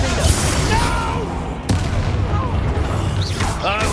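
The Compulso spell is cast in Hogwarts Legacy during a busy combat scene, with a dense, roaring magical burst and sharp impacts over a constant layer of game effects.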